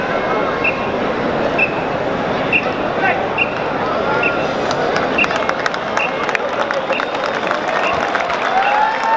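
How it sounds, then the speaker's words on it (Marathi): A crowd applauds and cheers for a women's Govinda troupe at an outdoor Dahi Handi festival event, a steady loud wash of clapping and noise running throughout with busy background commotion. "सगळ्यांनी जोरदार टाळ्या वाजवायच्या या महिला गोविंद पथकासाठी"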